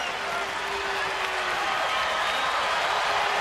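A baseball stadium crowd at a San Francisco at San Diego game roars and claps steadily through a full-count at-bat, a dense, continuous wash of distant cheering.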